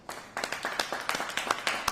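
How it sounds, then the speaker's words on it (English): Applause for the men and women of the Milwaukee Fire Department at a gathering marking Engine 14 becoming Engine 414: scattered hand claps from a small crowd, fairly near, irregular and brief. "give a round of applause to the brave men and women of the Milwaukee Fire Department"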